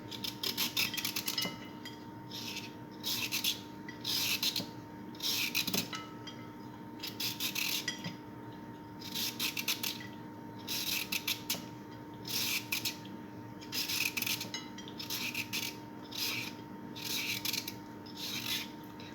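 A vegetable peeler scrapes down a carrot in quick, rhythmic strokes, each rasping pass short and close, repeating in clustered bursts over a steady background hum.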